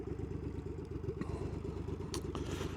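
A Triumph Scrambler 1200 XE motorcycle with slash-cut silencers idles nearby, its low, lumpy exhaust pulse running steadily throughout, with a couple of light clicks near the end.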